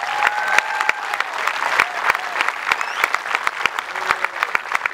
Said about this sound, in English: I think you do deserve a round of applause.